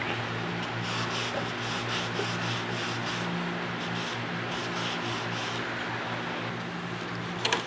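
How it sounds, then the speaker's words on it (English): A pad soaked in denatured alcohol scrubs a wooden baseboard under a Victorian house, giving a steady close, loud rubbing rasp with quick back-and-forth strokes and no talking. "put a little more denatured alcohol in there, scrub it again"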